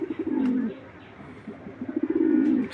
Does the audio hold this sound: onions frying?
no